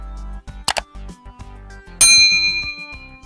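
A bright metallic ding rings out and decays, preceded by a couple of short clicks and clinks; close and clear with no talk.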